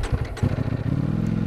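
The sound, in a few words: 2020 Ducati Panigale V4S motorcycle engine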